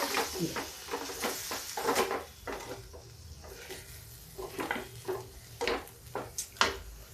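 Capsicum being turned and cooked in a pan for a dhaba-style dal, with repeated scraping and clinking of a spoon against the pan over a low sizzle while someone talks over it.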